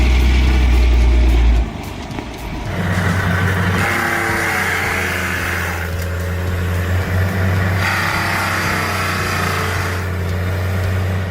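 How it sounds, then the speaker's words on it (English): An 11-ton truck climbing a snowy hill with a net on one wheel, its engine droning loud and steady in a sustained low rumble that shifts pitch slightly as it labours upward, with no talk over it. "And it's climbing that snowy hill with just a net on the right wheel."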